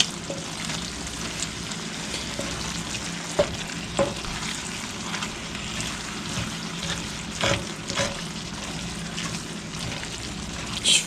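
Lasagna manicotti filling being folded together in a bowl, a soft continuous wet mixing with occasional light scrapes and clicks of the utensil, close and steady.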